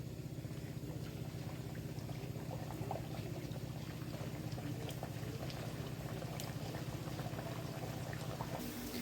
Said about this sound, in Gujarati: આવી રીતે આપણે બધી પૂરી તળી લેવાની છે